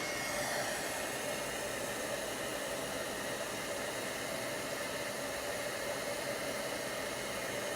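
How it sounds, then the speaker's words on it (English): A heat embossing tool blows hot air over embossing powder on dark cardstock, giving a steady, close, hair-dryer-like whir that runs without pause. "Now I'm going to heat that up."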